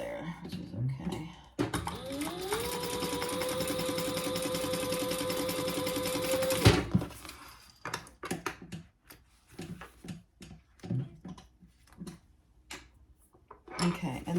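Sewing machine basting a narrow seam at about 1/8 inch, running steadily for around five seconds with a rising whir, then stopping abruptly; a voice talks afterward.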